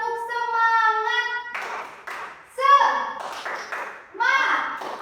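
Children in an Indonesian classroom lesson do a rhythmic tepuk semangat spirit clap. Short bursts of claps alternate with sing-song chanted voices, close and moderately loud.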